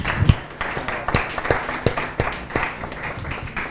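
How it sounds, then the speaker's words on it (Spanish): A small audience at a café talk claps to welcome a guest, giving a brief, uneven patter of handclaps from a modest group, close by and with no one speaking. "Entón pido un aplauso para recibir ao meu amigo Joao Nicolau."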